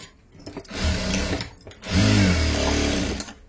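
Sewing machine stitching the shoulder of a blouse, a loud steady motor whir with rapid needle chatter running in two long runs split by a brief pause, close by and alone.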